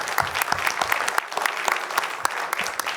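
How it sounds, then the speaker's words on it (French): Audience at a French medical congress on retinal vein occlusions breaks into applause, a dense patter of many hands clapping steadily for a few seconds with no voices. "Et je vous demanderai toutes et tous d'applaudir Isabelle,"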